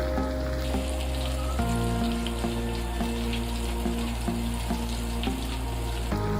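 Chicken popcorn bites deep frying in hot oil, a loud continuous bubbling sizzle heard close up, with background music playing underneath.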